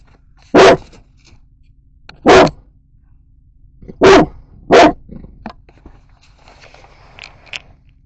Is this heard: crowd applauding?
no